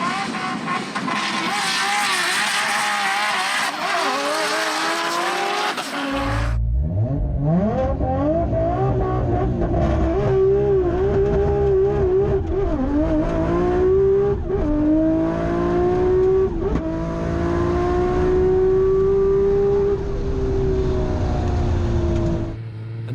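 Nissan Skyline GT-R race cars on a runway drag strip: a loud engine roar drops into a deep, rising rev as a car accelerates hard through gears, steady and close throughout.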